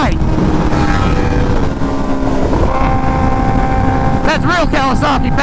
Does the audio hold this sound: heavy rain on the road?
no